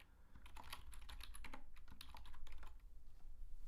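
Rapid, uneven clatter of keys on a computer keyboard, close and fairly quiet, continuing steadily for a few seconds with no voices.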